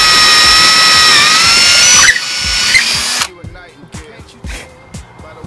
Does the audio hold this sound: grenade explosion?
no